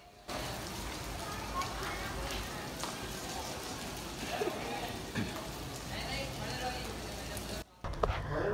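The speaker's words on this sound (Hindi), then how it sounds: "मुझे पता चला बारिश बहुत तेज़ हो गई है" Heavy monsoon rain falls steadily outside a house, a dense, even hiss that carries on unbroken before cutting out near the end.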